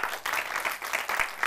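An audience claps at a motor insurance talk event, a short burst of scattered applause that rises and falls, moderately near and fairly loud, with no speech over it.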